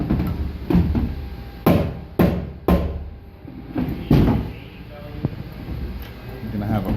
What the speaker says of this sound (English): Soft-headed hammer.